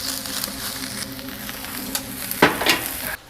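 Button mushrooms fry over high heat in a cauldron, giving a steady soft sizzle with a few sharper scrapes and clinks of stirring near the end.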